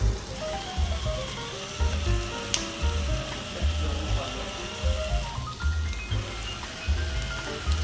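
Peeled, deveined shrimp sizzle in a hot electric grill pot, a steady close crackle with rhythmic low thumps that recur throughout.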